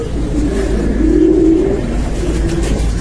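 Pigeons cooing at a Lahore pigeon loft, low soft repeated coos with one fuller coo in the middle, heard close over a constant background rumble, with no talking.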